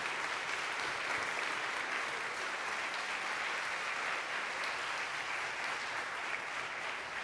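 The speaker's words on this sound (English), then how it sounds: "Will you give him another round of applause, please?" Sustained audience applause for a retired captain at a ceremony, dense even clapping from a sizable crowd that holds steady for several seconds without talk.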